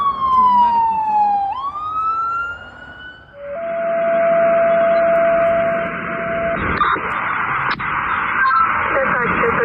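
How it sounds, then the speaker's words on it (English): A survival flight ambulance siren responding to a medical call, its loud wailing tone sweeping down then rising before a steady tone, heard among radio chatter and road noise. "White survival flight ambulance is responding to a medical call."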